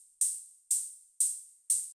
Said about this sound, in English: So the next thing we have here is this little operator hi-hat,